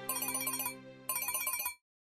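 Phone ringing with an incoming call, a bright electronic melodic ringtone playing two quick repeated bursts up close before stopping abruptly, with no talk.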